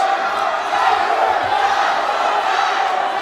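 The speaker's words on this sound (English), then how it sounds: "What a bloodthirsty crowd tonight." A wrestling event crowd cheers and shouts in a dense, continuous roar that stays loud and steady throughout, with no break in the noise.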